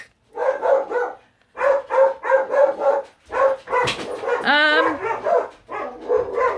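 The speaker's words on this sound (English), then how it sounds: "Now the dogs are barking again." Dogs barking indoors in repeated close, loud bursts, with a higher yelping whine partway through and short pauses between volleys.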